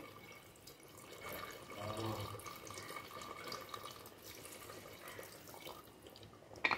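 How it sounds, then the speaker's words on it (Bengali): Water poured in a small amount into a pressure cooker while making a Bengali mutton curry, a faint steady trickle and splash with a brief clatter at the end. "খুব অল্প করে জলটা দিয়ে দিলাম।"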